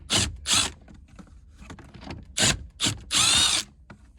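A ratchet wrench with an extension loosens the radio mounting bolts on a 2007 Lexus IS250, giving several loud, close bursts of rapid clicking separated by short pauses, with no talking.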